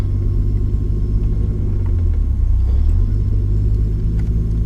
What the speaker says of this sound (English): I'm gonna drive forward again and see if the wheel stays straight